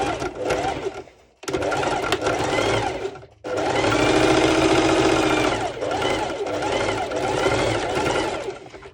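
A sewing machine runs a straight stitch on high-waisted ruched bikini bottoms, its rapid mechanical whir coming in close, loud bursts separated by brief pauses, with a voice faintly present.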